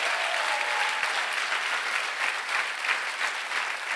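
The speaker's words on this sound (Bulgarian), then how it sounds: "хайде, ръкопляскайте, като че вярвате" Steady applause from a church congregation during a sermon, dense clapping held at an even level for the whole stretch with no voices rising above it.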